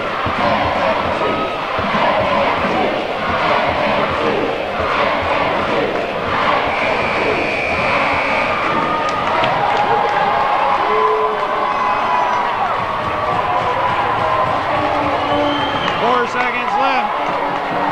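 A gym crowd roars and cheers through a junior varsity boys' basketball game between the Cougars and Bobcats, a sustained loud wall of voices with rising shouts and whistles, while an announcer talks over it.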